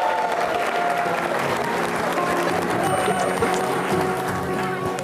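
Steady applause from a school audience at an Independence Day event, greeting a student dance performance by Ryan International School, filling the whole stretch as an even, dense wash of clapping with a faint crowd murmur.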